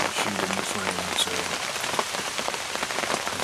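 Heavy rain drums steadily and loudly on a hunting blind during an October archery hunt in Pennsylvania, a dense unbroken patter close around the listener with no voices.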